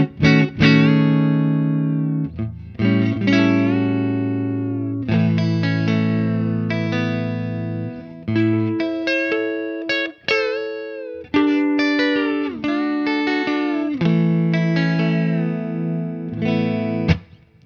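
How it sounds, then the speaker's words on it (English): Friedman Telecaster Custom Vintage T electric guitar plays sustained chords and notes with pitch bends sliding up and down, lightly effected with a shimmering tone, separated by brief pauses. "So you can do some cool bends like through chords"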